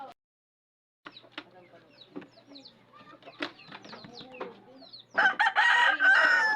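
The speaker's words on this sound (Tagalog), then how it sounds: "Ay, manok mo." Chickens cluck and call in short bursts after a moment of silence, then a louder squawking or crowing flurry near the end, with faint voices.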